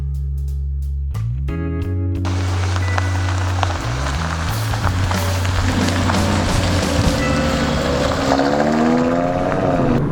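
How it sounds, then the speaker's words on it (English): A 2018 Audi RS3 Sedan's sport exhaust rumbles close and steady, its engine tone shifting in pitch as it revs, with a rising whine and road noise building toward the end. "Sport exhaust with the double exhaust notes."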